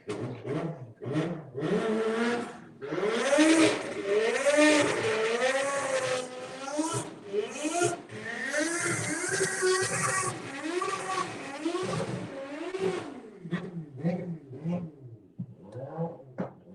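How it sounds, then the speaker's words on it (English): A motorcycle engine revs hard several times, its pitch sweeping up and down with a wastegate hiss and chatter, loud and sustained before settling into lighter blips. "That's a spicy sounding bike, isn't it?"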